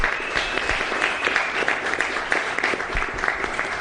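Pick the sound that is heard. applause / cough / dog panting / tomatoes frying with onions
applause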